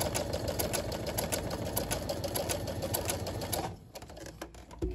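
A sewing machine runs a rapid, evenly pulsed basting stitch along ruffle pieces for a half apron, close and steady, then stops abruptly near the end, leaving a few faint clicks.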